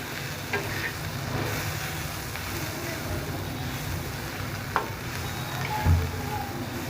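Chopped carrot frying in oil in a pan for Bengali pocket ruti, with a low steady sizzle, a few faint clicks of a spatula and a soft thump near the end, no talking.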